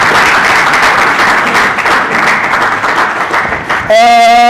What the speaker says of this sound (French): je voudrais encore une fois qu'on lui dise merci par acclamation